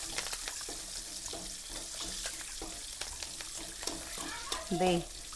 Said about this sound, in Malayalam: പച്ചമുളക് എന്താ ഒന്ന് വാടി വരുമ്പോൾ ചട്ടിയിൽ തന്നെ നമ്മൾ ഉണ്ടാക്കി